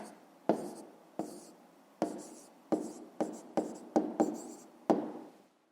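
Pen writing an answer by hand on paper, a series of short scratchy strokes with brisk taps between them, close and clear with no talking.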